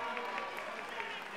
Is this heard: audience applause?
yes